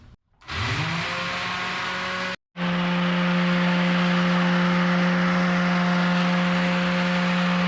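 A homemade sonic cleaner runs loudly while cleaning internal LS3/L92 engine parts. It makes a steady, droning mechanical hum that cuts out briefly near the start and then resumes unchanged, with no talking.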